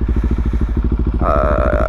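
A 2017 KTM 690 Duke single-cylinder motorcycle engine idles with a loud, close, rapid pulsing thump, and a rising whine joins partway through as it revs.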